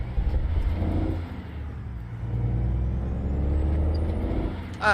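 A heavy Cummins X15 565 diesel truck engine in American Truck Simulator drones steadily at low pitch, rising slightly as it pulls, with a short hiss near the end.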